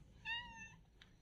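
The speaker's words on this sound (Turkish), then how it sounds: "Kedilerimiz." A cat meows once, a clear drawn-out cry close by at moderate volume, followed by a brief faint chirp against quiet background noise.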